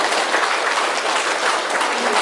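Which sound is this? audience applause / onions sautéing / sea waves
audience applause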